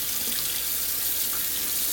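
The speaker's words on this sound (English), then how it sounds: "I'm going to run it over the wax paper." Hot water from a tap trickling over wax paper stuck to a frozen meat patty, a steady close hiss of running water with no voices.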